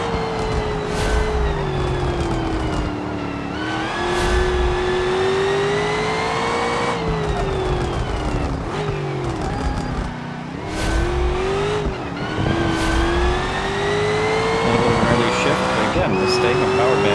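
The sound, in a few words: race car engine revving in the video game BeamNG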